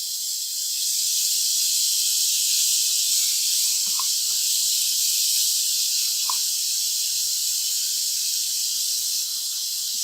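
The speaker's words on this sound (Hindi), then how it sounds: "इसे 2 से 3 मिनट के लिए अच्छे से भून लिया है।" Chicken sizzles steadily as it roasts in a pan, a dense, even hiss held close and constant, broken only by a few faint clinks and scrapes.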